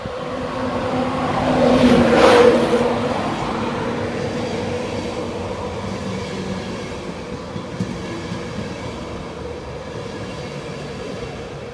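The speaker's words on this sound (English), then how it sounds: "The last East Coast train I'll ever see in my life in this livery." An East Coast train passes through Stevenage station, its roar swelling loudly to a peak with a rising whine before settling into a steady rumble of wheels on rails, with a few faint clicks as the carriages roll by.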